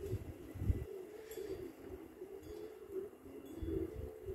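Pigeons of a long-distance racing line cooing inside a home pigeon loft, a soft, low, continuous murmur of overlapping coos with a few louder pulses, fairly quiet and close, with no talking.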